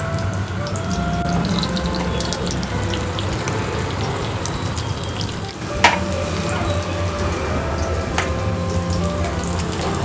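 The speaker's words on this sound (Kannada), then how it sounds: "ಒಂದು ದೊಡ್ಡ ನೀರುಳ್ಳಿ ಹೆಚ್ಕೊಂಡಿದೆ ಅಲ್ಲ ಅದನ್ನು ಹಾಕ್ಕೊಳ್ತಾ ಇದ್ದೇನೆ ಮತ್ತು ಫ್ರೈ ಮಾಡ್ಕೊಳ್ತೇನೆ" Chopped large onion frying in hot cooking oil for paneer green peas masala, a dense, steady sizzle throughout with a sharp clatter just before the midpoint, close and fairly loud with no voices.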